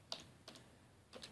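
A few soft taps on a computer keyboard while entering a command in Windows, three quiet keystrokes spaced apart, faint and close.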